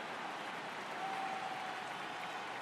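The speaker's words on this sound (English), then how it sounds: "The crowd is ready to erupt as their guys get set to take the field" A stadium crowd roars with steady cheering and applause in the baseball video game MLB The Show 18, filling the clip as a continuous wash of noise with no talk over it.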